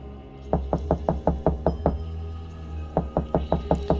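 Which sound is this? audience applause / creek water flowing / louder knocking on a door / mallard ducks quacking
louder knocking on a door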